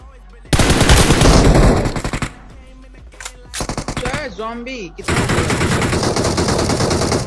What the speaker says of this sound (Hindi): तभी सामने से बंदा भाई अनएक्सपेक्टेडली फायरिंग करता है